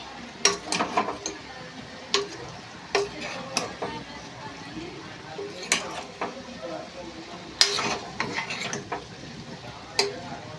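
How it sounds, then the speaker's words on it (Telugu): Mango chicken curry being stirred in a pan, a spoon scraping and clinking against the metal in irregular bursts, close and moderately loud with no voices. "ఈ కర్రీ కూడా ఒకసారి తిప్పేసుకుంటున్నాం"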